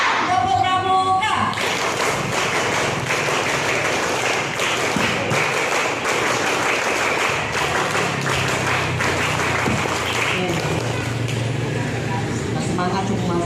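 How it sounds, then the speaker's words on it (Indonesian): Schoolchildren at a Scout Day ceremony perform the Tepuk Pramuka clapping pattern, a rapid rhythmic series of group claps and taps that runs on continuously, loud and close, with voices mixed in. "Tepuk Pramuka."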